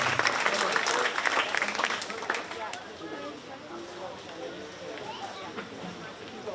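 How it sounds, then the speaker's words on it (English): Crowd applause at a county fair 4-H swine show ring, honoring exhibitors of crossbred breeding gilts; loud clapping in the first seconds tapers off to scattered claps, with speech over it. "Let's give those exhibitors a round of applause as we round out our crossbred breeding gilt division."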